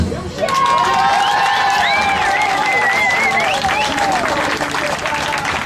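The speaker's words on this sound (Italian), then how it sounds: "Make a big applause!" Loud crowd applause and cheering at a pirate-themed entertainment show, with children's shouts and whoops rising over steady clapping and a voice talking through it.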